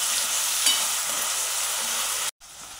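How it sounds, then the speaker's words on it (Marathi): Onion fries in oil for a broccoli, potato and pea vegetable dish, making a constant close sizzle. It stops abruptly near the end and resumes faintly. "कांदा आपण चांगला तेलामध्ये परतून घेऊया"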